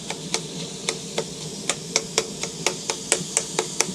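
A metal blade taps rapidly and rhythmically against a griddle while chopping food for a chopped cheese sandwich, sharp clicks repeating about three times a second, close by, with no talking.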